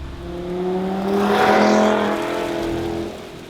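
A 2018 Audi TT RS with all-wheel drive pulls hard under full acceleration, its engine note climbing steadily and loudly as it revs up, with a hint of tire squeal. Only the engine is heard, with no talking.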